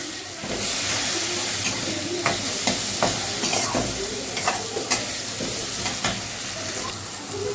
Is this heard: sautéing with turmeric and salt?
yes